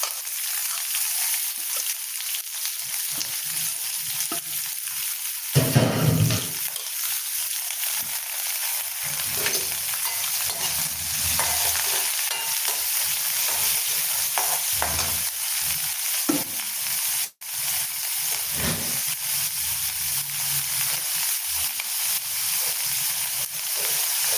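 Mustard seeds crackle and splutter in hot oil for a potato peas curry, a continuous sizzling hiss with sharper pops and bursts, close by and fairly loud.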